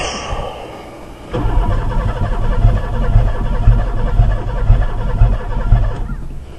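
A gummed-up Oldsmobile Ciera engine cranks and catches after a second, then runs rough and uneven with its catalytic converter cut off, a loud, lumpy, fluctuating idle continuing to the end.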